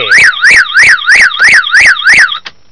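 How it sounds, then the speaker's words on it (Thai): A car anti-theft alarm siren under test blares in loud, rapid rising-and-falling whoops, about seven even pulses in a row, then cuts off abruptly and leaves near silence. "สัญญาณการขโมยก็จะต้องดัง ภายใน 5 วินาทีนะครับ"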